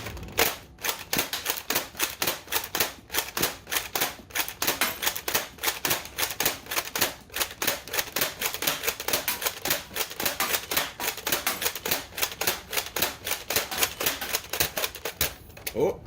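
An Adventure Force Conquest Pro dart blaster slam-fires a long, rapid string of sharp clacking shots in a steady rhythm, close and loud, ending with a few irregular clicks as it jams.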